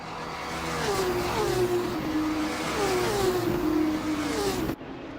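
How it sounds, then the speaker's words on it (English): A V6 turbo race car in a Formula-style racing video game, Singapore street circuit, revs hard through rising gear changes, a steady loud engine whine with repeated upshifts, cutting off abruptly near the end. "Oh, you gotta love the sound of those V6 engines, though."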